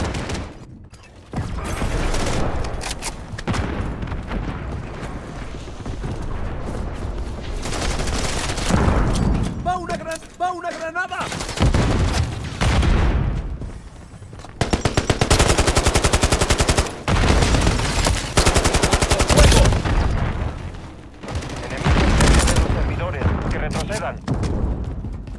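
Rapid, loud machine-gun bursts and scattered gunshots from a Call of Duty Modern Warfare 2 match fill the scene, with short pauses between volleys and voices shouting over the firefight.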